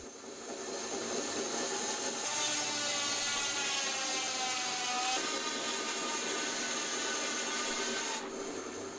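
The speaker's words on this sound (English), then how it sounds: "Then I'm going to use the big bandsaw, and this is pretty much the maximum capacity for this machine." A large bandsaw rips lengths of wood in half at near full cutting capacity, producing a steady, loud sawing drone with a whining blade that holds throughout, with no talk.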